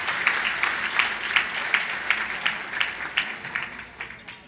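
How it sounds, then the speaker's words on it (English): A round of applause at an anniversary gala dinner, steady crowd clapping that holds at a moderate level with brief louder swells throughout. "I'm going to first please give a round of applause for Vandalyn"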